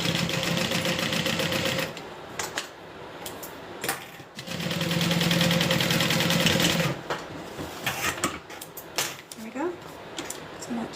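A sewing machine stitches fabric in loud, fast mechanical bursts of a few seconds each, stopping and restarting, with a person talking in the pauses between runs.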